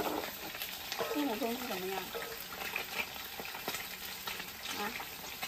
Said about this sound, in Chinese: 看到那个油崩过来，看到没有？ 那么多油崩过来。